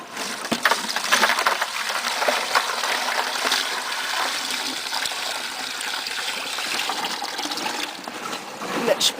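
Water pours steadily into a container holding an animal skull for an initial rinse, a continuous splashing gush close to the microphone with brief voices in the background.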